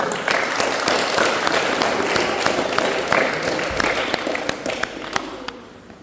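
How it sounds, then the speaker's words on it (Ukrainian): Sustained applause from a crowd fills an award ceremony for second-place fighters at a Christmas Cup tournament in Tiachiv, steady and fairly loud with scattered sharper claps, fading slightly toward the end. "Так от ці бійці зайняли друге місце і ми їм аплодуємо."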